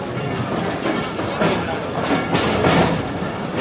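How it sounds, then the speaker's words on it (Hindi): The Rehman Baba Express rolls through dense winter fog, a steady loud rumble of moving rail cars with a faint rhythmic clatter running throughout. "हमारी ट्रेन जा रही है"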